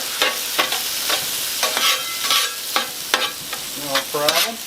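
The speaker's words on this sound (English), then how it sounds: "so we just kind of stir in our eggs into the chorizo here" Eggs stirred into chorizo sizzling on a 17-inch Blackstone griddle: a steady close frying hiss broken by repeated spatula scrapes and clicks in an uneven rhythm, with no talking.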